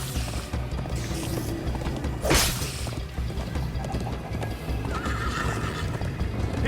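A horse gallops with steady clip-clopping hooves and lets out a whinny, set against a dense, continuous background din, in the video game Minecraft: Story Mode.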